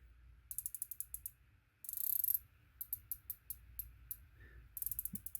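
Sharp mechanical clicks from a Vortex Strike Eagle 1-8x24 Gen II rifle scope turret being adjusted, in quick bursts of several separated by short pauses, with a brief ratcheting whir in the middle; close and crisp.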